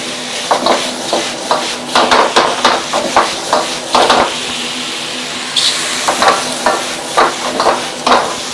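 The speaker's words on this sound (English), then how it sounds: "Let's go and give them a stir." Chicken pieces with red pepper, oyster sauce and pepper being stirred in a hot pan: a rhythmic series of loud scraping, clattering strokes over a steady sizzle, with a short pause midway.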